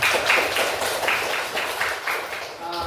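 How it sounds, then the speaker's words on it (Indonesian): Classroom students clapping together, a fairly steady patter of many hands filling the room, moderately loud and close, without talk over it. "Beri tepuk tangan dulu untuk orang tadi."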